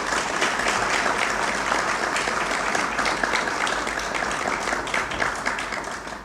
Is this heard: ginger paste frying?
no